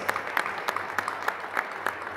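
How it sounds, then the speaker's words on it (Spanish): Sparse applause at a MORENA political rally in Ocampo, honoring a female candidate: a few scattered, sharp claps repeating at irregular intervals, fairly faint, over a low steady hum. "Un aplauso para ella."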